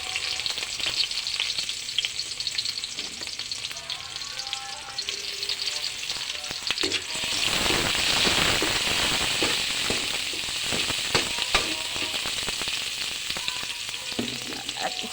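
Bitter gourd and egg frying in a pan over fairly high heat, browning as they cook: loud continuous close-up sizzling with sharp crackles, swelling louder about halfway through, no voices.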